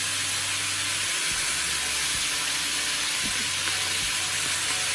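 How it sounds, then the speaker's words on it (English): Cabbage frying in oil over a little water in the pot gives off a continuous loud hiss and sizzle of steam that holds steady throughout, with no talking. "This is what's going to help the cabbage to steam as it fries."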